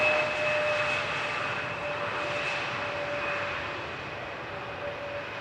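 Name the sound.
KLM airliner landing at Amsterdam Schiphol runway 18R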